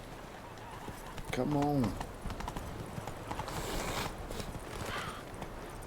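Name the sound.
horse Roach galloping in video game The Witcher 3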